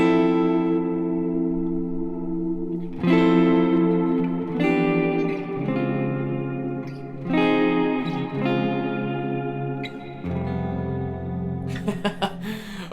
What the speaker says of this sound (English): I think I was messing around with the large hall reverb.